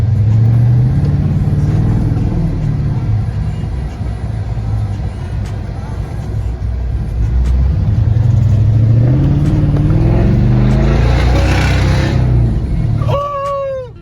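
A Dodge Charger R/T with a rebuilt 5.7 Hemi driving, its engine rumbling loud and close throughout with swelling revs, and a voice briefly heard near the end.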